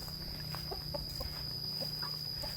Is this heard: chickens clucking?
yes